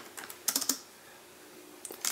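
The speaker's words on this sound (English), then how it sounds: "I don't notice the lag whenever I'm typing out any of the keys" Typing on a TaoTronics TT-MK003 mini wireless keyboard makes quiet, close key clicks in two short bursts separated by a pause.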